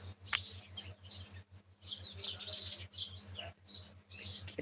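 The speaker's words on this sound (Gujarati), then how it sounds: "જામફળીમાં ચકલા" Sparrows in a guava tree give bursts of high, bright chirps and twitters, coming in short clusters with brief pauses, fairly close, over a faint low steady hum.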